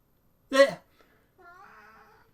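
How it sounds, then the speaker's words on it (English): A pet cat gives one loud, close meow, followed after a pause by a softer, drawn-out tonal sound. "that's my cat"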